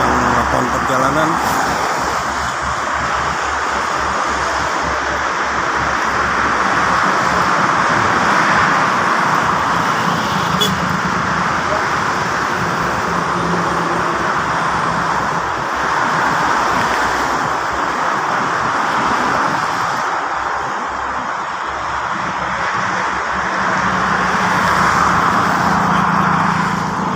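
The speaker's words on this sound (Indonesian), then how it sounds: "Wah, hujan lagi teman-teman, ini hujannya terus turun, hujannya terus." Steady rain and road noise heard from inside a car driving on the Jakarta-Cikampek toll road in Indonesia during rainy season, a continuous broadband wash of spray, wind and tyres that goes on throughout.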